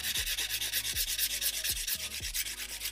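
A 180 grit file rubs back and forth across an acrylic competition nail in quick, even strokes, a dry scratchy rasp repeating about every half second, close and alone.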